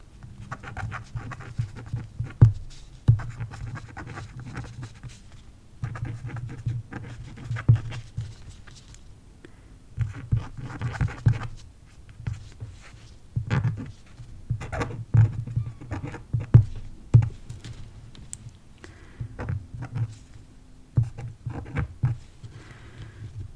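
Marker or pen scratching and tapping across a rainbow art sketch pad, close and quiet, with irregular strokes and soft taps continuing steadily without talk.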